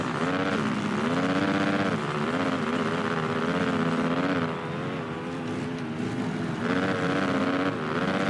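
Motorcycle engine in Monster Energy Supercross 3, a Honda dirt bike on a supercross track, droning loudly and steadily with wavering revs that dip and recover, close and continuous with no talk.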